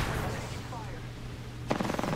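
Bursts of automatic gunfire from the Apex Legends video game, fairly faint under a continuous game soundscape, with a sharper rattle near the end and some voice present.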